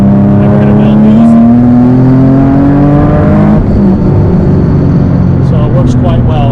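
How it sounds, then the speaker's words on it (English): A turbocharged car rolls from cruise control and is floored to build boost, its engine drone rising steadily in pitch for several seconds, then shifting to a lower roar with faint whistles; loud and close, with no talk over it. "I'm going to hold down the cancel button and floor it, and we're going to build boost."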